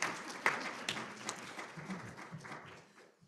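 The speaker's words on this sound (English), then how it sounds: "we'll happily stop and wait for an applause" An audience at a panel event on affordable housing applauds in a short burst of clapping that starts strong and gradually fades over a few seconds.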